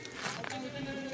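Kathiawari goats bleat close by in a pen, a couple of short wavering cries while someone talks over them.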